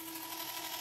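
Car door lock motor running steadily in a fingerprint-controlled door unlock setup, a continuous mechanical whir with a steady tone, close and fairly quiet, lasting under a second with no talking.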